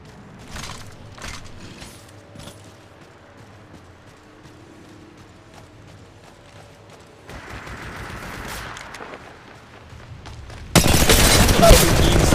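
Gunfire in the mobile battle-royale game Apex Legends Mobile: several quick shots early, then quieter action, ending in a loud, dense burst of rapid fire and explosions.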